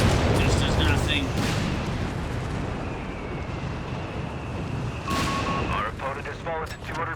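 Artillery shelling in Company of Heroes 3 booms in several heavy, rumbling blasts with crackling bursts between them, loud and dense, mixed with other battle noise.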